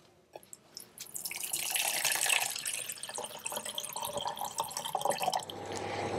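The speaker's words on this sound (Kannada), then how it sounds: "ಸೊ ಈಗ ನೀರು ಕುದಿತಾ ಇದೆ" A glass of water heats to a boil in a pot, starting with a few light taps, then building into a continuous bubbling, hissing fizz that stays close and moderately loud, with no speech.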